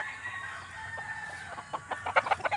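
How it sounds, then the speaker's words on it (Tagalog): Chickens on the ground below cluck in short, quick bursts that grow more frequent toward the end, fairly faint against a background hum of the outdoors. "May mga manok sa baba."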